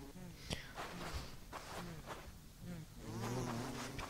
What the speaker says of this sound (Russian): Пчелы, пчелы, интересно, нас кусают,